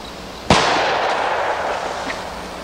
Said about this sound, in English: let's shoot the same target with one on the left with our 460